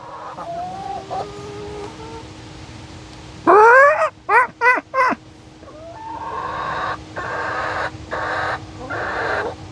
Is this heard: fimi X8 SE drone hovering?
no